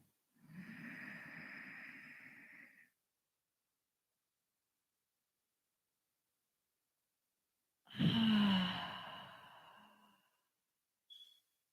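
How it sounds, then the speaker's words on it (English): One slow, deep breath in, a long pause, then a fuller breath out, both close and soft in an otherwise silent room during a guided relaxation. "Again, a nice deep breath in."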